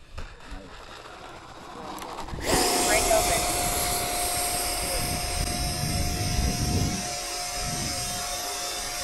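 An RC model Tomcat jet aircraft flies at a field, a steady engine whine holding throughout, rising sharply after a quiet start and staying loud with wind rumble.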